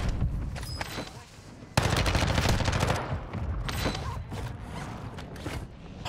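Heavy shotgun blasts from the KV Broadside in a shooter game, a loud burst of repeated booming shots after a brief lull, mixed with mechanical clatter and ongoing combat noise.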